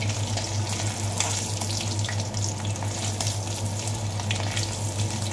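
Potato pieces frying lightly in hot oil in a pan give a steady, continuous sizzle over a low constant hum, with no talking.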